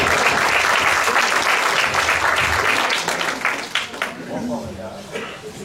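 Audience applause after a stage show, a dense, loud burst of many hands clapping that holds steady, then thins and fades slightly toward the end.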